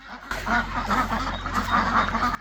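Ducks and geese on a farm honk and quack in a steady, close chorus of repeated calls, loud and continuous with no talking.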